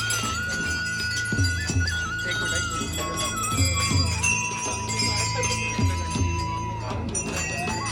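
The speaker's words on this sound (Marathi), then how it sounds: "घंट्या वाजवतात घंट्या किती येडं झाले" Temple bells ring repeatedly as visitors strike them, producing overlapping metallic clangs with long ringing tones. The bells are close and steady, with voices murmuring underneath.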